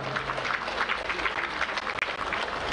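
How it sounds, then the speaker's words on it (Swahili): An audience at the opening of the 46th Sabasaba international trade fair claps steadily, a sustained wash of applause from many hands with a brief dip partway through. "Naomba tuwapigie makofi mengi sana."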